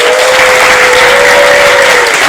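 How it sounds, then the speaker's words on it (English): An audience at a historic Gullah Geechee gathering gives a loud, dense round of applause that fills the whole stretch without a break, with a faint steady tone running beneath it. "Let's give him a great big round of applause."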